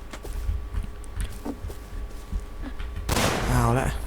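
A house wall in the video game Rust is blasted with explosives: a loud, broad burst lands near the end after quieter scattered thumps and background game noise.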